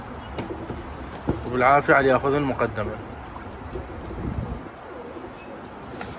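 Golden, teddy and Rampur pigeons cooing softly in a loft, a low throaty coo rising once clearly while someone speaks over the birds and a faint chirp comes through now and then.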